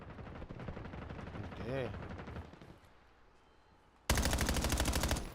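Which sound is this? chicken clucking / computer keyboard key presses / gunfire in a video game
gunfire in a video game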